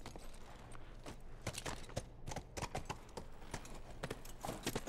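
Horse hooves clip-clopping in The Last of Us video game, a steady run of crisp, close hoofbeats with uneven rhythm carrying on throughout.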